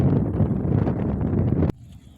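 Strong wind blows across an open, very windy landscape where wind turbines stand. It roars loudly into the microphone as a dense, buffeting rush, then drops off abruptly near the end.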